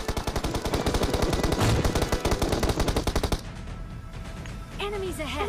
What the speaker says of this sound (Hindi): इन लोगों का एक टीममेट वहां आगे बैठा है और हमारे विप्लव भैया को कोई SKS पटका देता है